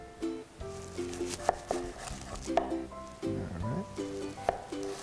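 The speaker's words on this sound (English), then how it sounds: "then we just want to make some nice slices all the way through" Potatoes are sliced with a knife on a board to make Cajun-style French fries, giving a few soft, scattered cutting taps heard under a steady talking voice and some tonal background sound.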